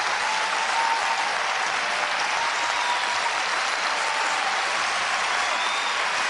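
Audience applause at a concert after a live performance of a song, a steady dense wash of many hands clapping that holds evenly loud for the whole stretch with no voices on top.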